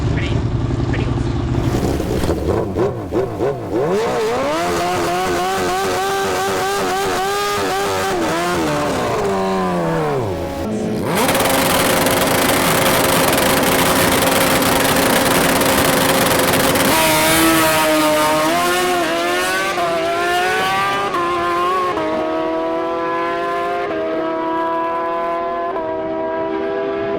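Racing motorcycle with a sliding clutch at a Western Nationals drag event launching hard and revving up through the gears, loud and close with rising engine pitch broken by a sharp shift dip, crowd and voices underneath.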